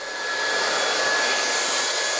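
A hair dryer blows steadily during a volume blow dry, a continuous loud airy whoosh with a fixed high whine that rises at the start and then holds even throughout.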